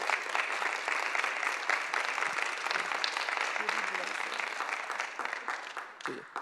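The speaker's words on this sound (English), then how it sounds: "give them a round of applause" Sustained applause from a school annual-meeting audience for the Reading Buddies, a dense, even clatter of many hands that continues for several seconds before thinning out at the end.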